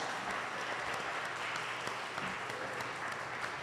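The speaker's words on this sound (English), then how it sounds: "Give this panel a round of applause." Steady applause for a discussion panel, an even wash of many hands clapping in a room that holds unbroken for several seconds at moderate volume.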